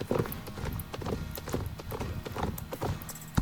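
Hooves clip-clop steadily from a horse in a horse-riding video game, a close, even run of hoof beats with an occasional faint whinny and no talk over it.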